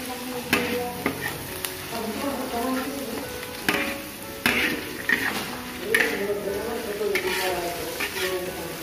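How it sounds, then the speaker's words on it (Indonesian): Pounded cassava leaves sautéing in a pan for a Dayak Kalimantan dish, with steady sizzling and repeated scraping stirs of a utensil against the pan, close and continuous, with no talking. "kita tumis sampai harum. Setelah itu kita langsung masukkan daun singkong tumbuknya."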